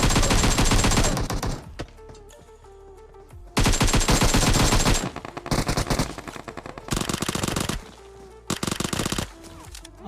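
Gunfire from the PUBG Mobile video game comes in loud repeated automatic bursts separated by short quieter gaps, the rapid shots filling the clip.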